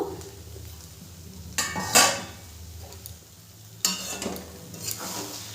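A spatula scrapes and stirs banana-flower curry (mochar ghonto) in a pan, soft sizzling underneath, with a few louder bursts of metal scraping against the pan.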